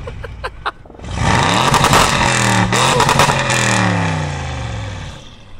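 Audi RS6 engine revving hard outdoors, a loud sustained roar with rising and falling pitch sweeps lasting several seconds after a few short blips at the start.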